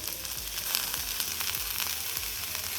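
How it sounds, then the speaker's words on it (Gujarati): Shredded cabbage and carrot sauté in a hot pan for veg momo filling, giving a steady broadband sizzle with soft rhythmic scrapes of stirring every half second or so, close and fairly quiet. "ત્યાર પછી હવે તેમાં આપણે કોબી પત્તા નાખી દઈશું, ગાજર નાખી દઈશું, છીણ કરેલું છે તે,"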